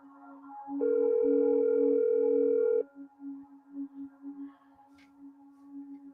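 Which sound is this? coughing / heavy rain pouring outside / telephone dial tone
telephone dial tone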